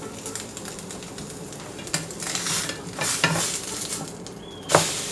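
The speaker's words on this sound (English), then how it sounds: "we're gonna put the bread inside the batter. And we're gonna drop it in the pan." Batter-soaked bread for French toast sizzles and crackles in a hot pan, a steady close frying hiss with a few sharp clinks and scrapes of a utensil, no talking.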